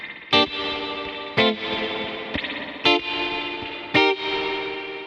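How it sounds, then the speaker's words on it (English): Short, punchy electric guitar chords played through a Kemper Profiler, struck in a steady rhythm about once a second, each sharp stab followed by a large ducked reverb swelling up in the gaps. "I'm playing just chords, just short chords"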